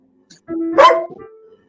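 A puppy gives a single short, high yippy bark with a brief whine at the start, close by in an otherwise quiet room.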